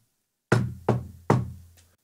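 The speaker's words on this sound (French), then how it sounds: "Il entend cogner à sa porte." Three firm knocks on a door, evenly spaced and close, followed by a faint fourth tap, with silence around them.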